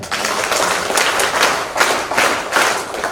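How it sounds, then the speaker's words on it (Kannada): Audience applause at a school old students' association event in Kotturu, a burst of close, loud clapping from a crowd lasting a few seconds with no talking. "ಚಪ್ಪಾಳೆ"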